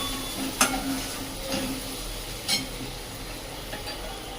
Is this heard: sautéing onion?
yes